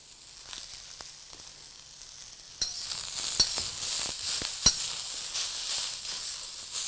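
Onion, cabbage, carrots and capsicum stir-frying over high heat for veg chowmein, a soft sizzle that swells louder partway through, with sharp clicks and scrapes of a spatula against the pan.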